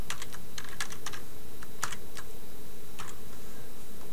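Someone types on a computer keyboard in quick, close bursts of crisp key clicks separated by short pauses, over a faint steady room hum.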